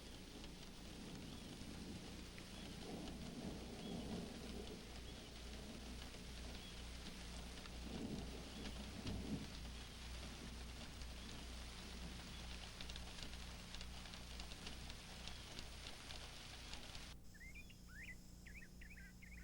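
An afternoon thunderstorm in the Everglades: steady rain hiss with low rumbling thunder swelling and fading, and bird calls coming through clearly near the end as the downpour eases.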